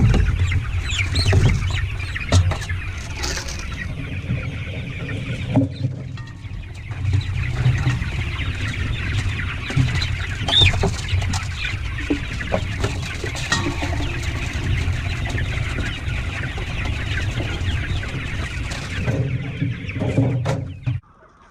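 A flock of Cornish Cross chickens clucks and chatters steadily while being pushed out of a brooder, a dense close barnyard clamor with scattered clanks and rustling throughout.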